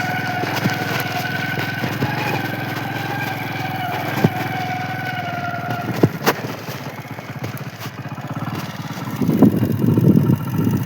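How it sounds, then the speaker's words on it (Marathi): A tractor engine runs with a steady, fairly loud droning hum, turning rougher and more uneven toward the end. "वो चल रहा हमारा ट्रैक्टर उधर"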